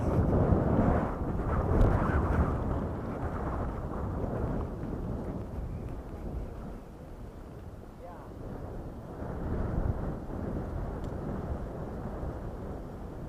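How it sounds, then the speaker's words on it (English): Strong wind buffets the microphone in a steady, heavy rumble that swells and eases throughout. "Wow, pretty windy."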